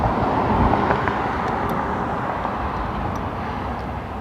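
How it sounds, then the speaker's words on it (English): Rush hour road traffic heard while riding a bike on an evening commute, a loud, steady roadway rumble with passing cars blending into a continuous wash, no talk. "More and more cars on the road at this time of day."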